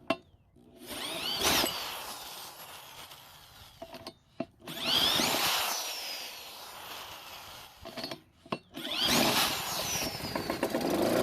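A small engine fitted with a new recoil starter sputters and runs in several rough bursts, close and fairly loud, with brief gaps and clicks between the runs.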